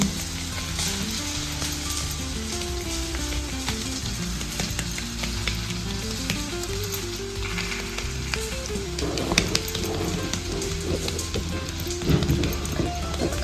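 Thalipeeth flatbread sizzles steadily on a hot pan. A dense, continuous frying hiss runs through the whole stretch, with a low background hum beneath it.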